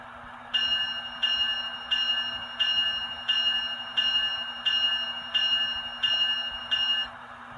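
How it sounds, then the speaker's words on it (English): Sound-decoder bell of a ScaleTrains ET44 model locomotive, ringing in an even, steady rhythm of about nine clear metallic strikes, fairly quiet and alone. "Function 1 is the bell."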